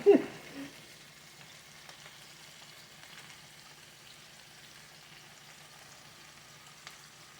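Peppers fry in a small pot with a faint, steady sizzle that follows a brief clatter at the start and continues quietly and evenly to the end.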